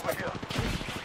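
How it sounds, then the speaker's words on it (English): Rapid video game gunfire crackles continuously through a short burst of combat, dense and loud, with in-game voice chatter mixed underneath. "Getting shot at."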